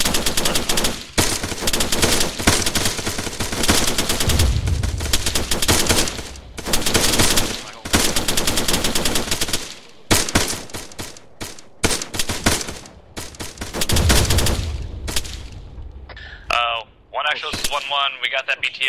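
Machine gun fire rattles in long sustained bursts during platoon training for an amphibious landing, loud and close, with brief gaps and shouted voices near the end.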